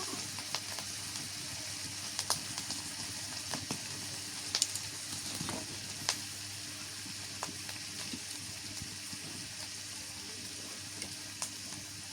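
Garlic paste and onion paste, added with green chillies, fry in oil in a steady, soft sizzle, with occasional small pops and light stirring clicks, close and without speech.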